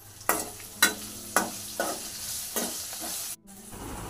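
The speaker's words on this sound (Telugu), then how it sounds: "ఇప్పుడు 2 స్పూన్స్ ఆయిల్ వేసుకొని జీలకర్ర ఆనియన్స్ ఫ్రై చేయాలి." Cumin seeds and onions frying in two spoons of oil for a sprouts tamarind curry: a bright sizzle broken by about five firm spoon scrapes against the pan, near and clear, with no voices.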